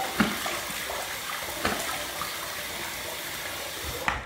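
A bathroom tap runs in a steady rushing stream for a quick rinse during a wet shave, with a few faint clunks along the way.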